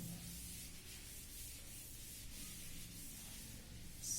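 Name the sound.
rubbing out writing on a board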